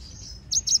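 A hybrid African singer finch crossed with a Mozambique canary gives two quick high chirps close by, over a faint low background murmur.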